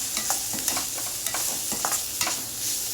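A spoon stirs coriander powder and garam masala into spinach in a sizzling pan, repeated scraping strokes over a steady frying hiss.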